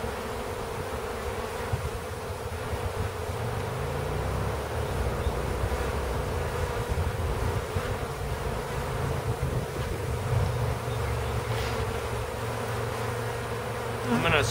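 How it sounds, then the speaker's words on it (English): A swarm of honey bees caught from a house buzzes continuously and densely up close, a steady droning hum with a few faint clicks and knocks over the roughly fifteen seconds. "I'm trying not to crush any bees, because right now they cluster up so much"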